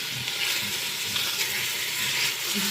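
Sausage browns in the bottom of an Instant Pot, producing a bright, continuous sizzle with a faint crackle, close and steady for a few seconds.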